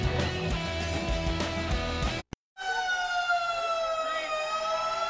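Old fire trucks in an opening day parade blare loud wailing sirens, several overlapping, cutting out abruptly for a moment before a rising, sustained wail resumes.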